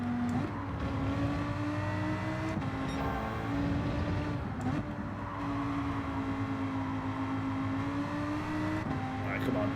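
A Lamborghini race car engine in Gran Turismo 7 whines loudly and keeps rising in pitch through the gears, with brief drops at the shifts, under quiet talk.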